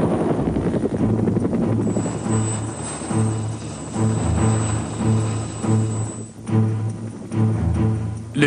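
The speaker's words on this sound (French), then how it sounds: "Le bruit caractéristique des pales de leur rotor signifie que d'une manière ou d'une autre, l'aide est tout près" Bell UH-1 Iroquois 'Huey' military helicopter rotor blades thumping in a steady, loud rhythmic beat, continuous and close with a sustained engine whine, no voices.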